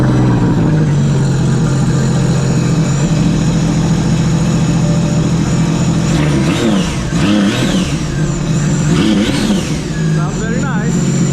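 A Sea-Doo RXP personal watercraft engine, fitted with a water box and rear exhaust, runs loud and steady at close range, with a buzzing drone and brief rises in pitch. Voices and shop noise are heard over it.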